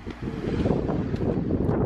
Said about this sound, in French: je sais pas si vous entendez grand chose parce qu'il y a du vent